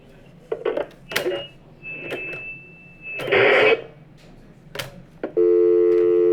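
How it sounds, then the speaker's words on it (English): A phone gives a series of beeps and dialing tones, with short scattered key presses and a sustained tone near the end, alongside muffled handling noise. "I really don't know how to use this stupid phone"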